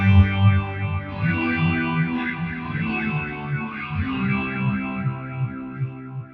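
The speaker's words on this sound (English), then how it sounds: "what I feel is this kind of swirly sound, kind of like a lighthouse twirling around looking for somebody" Electric guitar chords ring through an HX Stomp Searchlights reverb, a lush swirling wash that sweeps up and down in a slow rotating shimmer, sustained and loud for several seconds with no talking.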